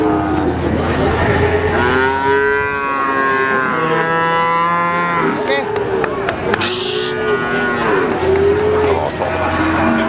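Breeding cows at a livestock market moo repeatedly, long, loud, wavering calls close by, with people talking around them.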